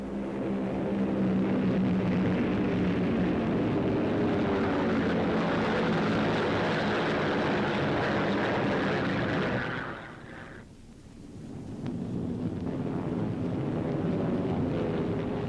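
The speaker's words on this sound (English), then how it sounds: "In a few minutes, deadly Focke-Wulfs and Me-109s are on their way to challenge our men and planes." WWII German fighter planes, Focke-Wulfs and Me-109s, roar overhead in a loud, sustained propeller-engine drone that briefly dips and thins before swelling back to full strength.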